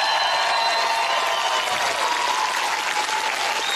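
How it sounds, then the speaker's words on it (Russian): A packed comedy club crowd breaks into loud, thunderous applause, a dense roar of clapping that stays strong and even throughout, with faint sustained tones, likely music, running underneath. "аплодисменты"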